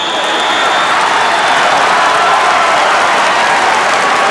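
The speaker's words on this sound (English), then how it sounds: "They're packed in here like sardines, and they make a lot of noise." A packed arena crowd at a 1981 NCAA college basketball championship game roars and applauds in a dense, loud, unbroken wash of noise.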